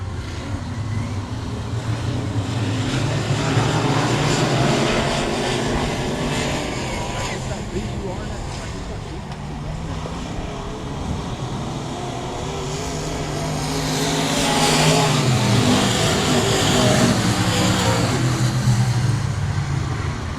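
Dirt track race cars roar around Texana Raceway Park during lap one, the 9M car with its old Mike Riley motor among them, a continuous loud engine drone swelling as the pack passes, with a commentator talking over it.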